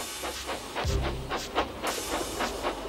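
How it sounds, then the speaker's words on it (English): Steam engines hauling freight cars uphill, giving a steady rhythmic chuffing with hissing steam and a low rumbling clatter, continuous and moderately loud with no talk. "the snorting engines forced the freight cars up the hill"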